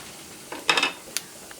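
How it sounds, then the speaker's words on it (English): Dry red chili and cumin seeds hit hot oil with a few quick, crackling spits and pops, brief and close, with no talking. "I'll add the cumin seeds as well. Allow them to splatter."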